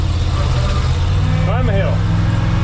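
A 1968 Ford dump truck's engine drones steadily up close as it pulls off in first gear, with a voice briefly speaking over the running motor.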